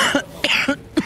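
A man coughs four times in short, evenly spaced bursts, each a rough throaty hack that fades quickly, heard up close with no talk over it.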